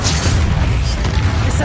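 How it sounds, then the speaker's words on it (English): A Bombarda blasting spell in Hogwarts Legacy goes off as a heavy, booming blast with a sustained low rumble, loud and close, amid game combat sounds. "Bombarda."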